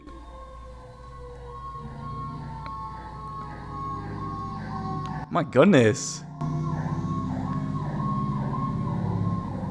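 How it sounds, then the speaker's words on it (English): A fire truck siren wails past outdoors, its rising and falling tones loudest midway through with a sharp burst of horn blasts, then fading under a steady rumble while someone speaks briefly. "that was another fire truck"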